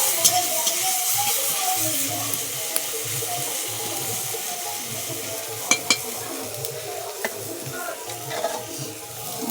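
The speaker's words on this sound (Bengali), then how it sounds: "আমি খুন্তি দিয়ে হালকা একটু এবার দিয়ে করলাটাকে নেড়ে দিব" Bitter gourd frying in a pan is stirred with a metal spatula, producing a steady close sizzle with light scraping strokes and a few sharper clinks.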